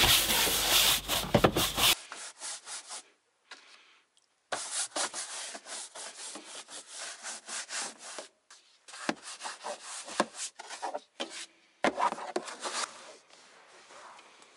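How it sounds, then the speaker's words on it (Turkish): A car's driver-side floor mat is wiped and dried by hand in repeated short, scrubbing rubs, close and fairly loud, with brief pauses between bursts of friction. "Şoför tarafını da aynı şekilde temizleyip kuruluyorum."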